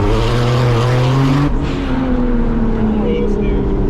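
A 1,000 horsepower car launches under launch control at a drag event, its loud engine note dropping in pitch partway through as the car pulls away, with people talking over it.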